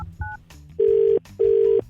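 Telephone keypad tones dialed for a radio show call: a brief double-pitched beep, then two longer, louder tones with a short gap between them, heard alone and up close.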